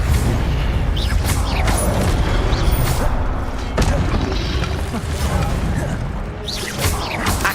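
The Incendio fire spell is cast in the video game Hogwarts Legacy, giving loud booming bursts and whooshes with mechanical creaks over a dense, constant layer of game effects.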